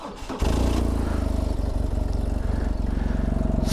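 A BMW HP2 Sport motorcycle cranks briefly and then fires, settling into a loud, close, rapidly pulsing idle that runs steadily to the end.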